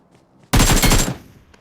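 A short, loud burst of rapid gunfire in the mobile shooter BGMI finishes off a knocked enemy. It lasts about half a second and then cuts to quiet.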